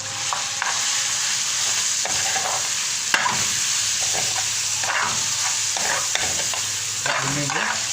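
Chicken cooks in a pan with curd and masala, a constant close sizzle and hiss broken by scraping stirs of a spoon against the pan, on low heat.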